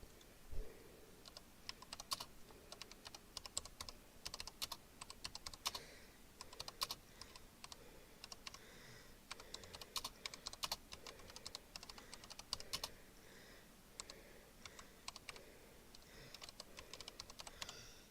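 Fast, uneven typing on a computer keyboard, close and clicky, with bursts of keystrokes and brief pauses over about eighteen seconds, no talking.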